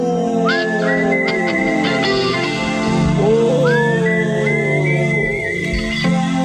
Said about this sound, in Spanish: Y ahí pasa el afilador de cuchillos.